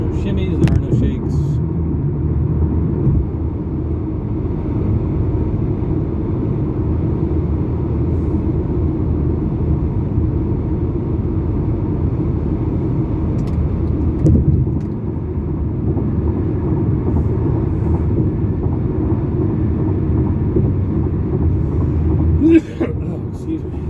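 A car cruising on the road at 70 mph, a steady low rumble of engine and road noise filling the cabin, with someone talking over it.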